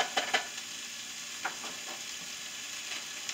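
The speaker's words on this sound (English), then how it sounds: "with the onions and garlic, I like to saute them a little bit before I put them in my soup mixture" Onions and garlic sauté in a pan with a quiet, steady sizzle, broken by a few soft stirring scrapes early and midway.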